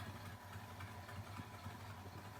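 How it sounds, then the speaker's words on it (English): A 1979 Ford F150 fitted with a Chinese carburetor idles with a steady, low, quiet engine hum and a faint rhythmic pulse, no talking. "But other than that, it's idling pretty good."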